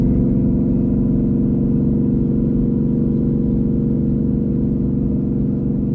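A twin-turbo 2020 Ford GT500 with a Th400 swap pulls steadily in second gear at 4 PSI boost, a continuous loud, even engine drone heard from inside the car.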